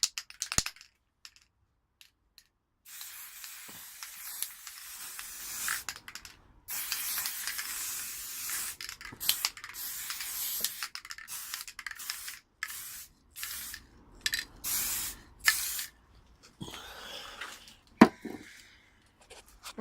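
An aerosol can of brake and clutch cleaner hisses in a series of short and longer spray bursts onto a rusty Kinroad XT125GY motorcycle exhaust, close and fairly loud, with brief silent gaps between sprays.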